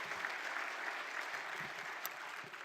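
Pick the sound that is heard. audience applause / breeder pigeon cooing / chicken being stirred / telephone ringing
audience applause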